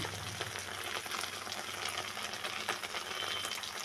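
Ground spice paste with salt, turmeric and sugar frying in a pan for a vegetarian mock-fish dish, giving a steady, dense sizzle with light stirring scrapes throughout and no talk.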